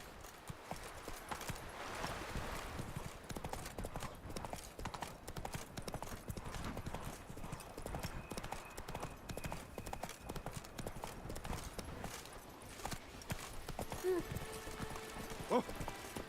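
Horse hooves clip-clop steadily at a trot in The Witcher 3 game, a brisk even rhythm running throughout, with a voice speaking briefly over it.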